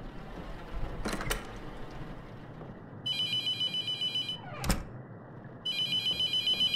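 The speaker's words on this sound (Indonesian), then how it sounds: "Telepon lagi guys, ini pasti Raymond." Telephone ringing in the horror video game The Mortuary Assistant: two bursts of a trilling electronic ring over low room ambience, with a couple of sharp knocks or clicks in between.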